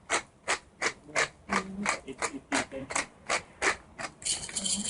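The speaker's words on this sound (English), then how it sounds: "I'm just doing a couple twists of freshly ground black pepper" A pepper grinder cranks out freshly ground black pepper in a steady run of about a dozen crisp, evenly spaced ratcheting twists. It is close and clear, with no voice over it.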